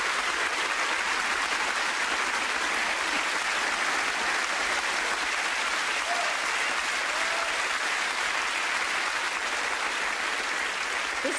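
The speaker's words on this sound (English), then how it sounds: "so please give her a huge round of applause" A large crowd at the Pride of Britain awards claps continuously and loudly, a dense, even wash of applause sustained throughout without pause.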